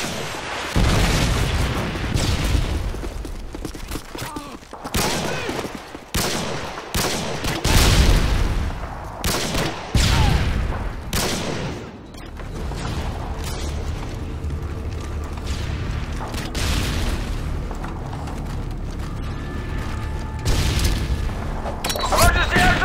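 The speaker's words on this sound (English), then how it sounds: "Predator missile inbound." Predator missile strikes and gunfire on the Karachi map in a Modern Warfare 2 team deathmatch, with repeated heavy booming blasts and bursts of rapid shots, loud and close, mixed with intermittent game voice callouts.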